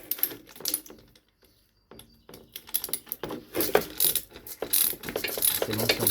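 A ratchet tightening a bolt on a Renault Twingo, with clusters of quick, close clicking bursts separated by a brief quiet gap, no talking.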